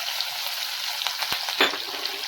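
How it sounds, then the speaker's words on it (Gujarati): Green chillies and peanuts tempering in hot oil for batata poha give a steady, close sizzle with a few sharp pops and crackles, and no talk. "તો ત્યારે તેમાં આપણે વઘાર કરીશું। લીલા મરચાં"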